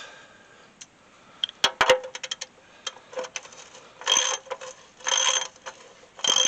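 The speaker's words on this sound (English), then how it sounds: "snug it up good with your wrench" A ratchet wrench tightens a bolt under a Dodge truck during an oil change: sharp, quick clicking bursts in short runs separated by quiet gaps, close and fairly crisp.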